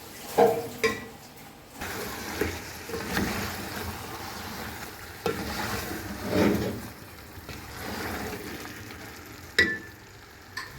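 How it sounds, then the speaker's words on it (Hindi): Chicken masala being stirred in a pan on the stove, a low steady sizzle broken by several scraping, clattering stirs of the spoon; no talking. "इसको थोड़ा मिक्स करूंगी और इसको ढक दूंगी हल्की आंच पे थोड़ी सी देर के लिए पकने के लिए"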